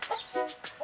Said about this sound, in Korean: 부부가 직접 기르는 터종닭들이다